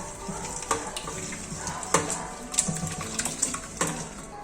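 Tap water runs steadily over chicken breast pieces being washed in a kitchen, with irregular splashes and knocks as the meat is handled under the stream, fairly close and with no talk.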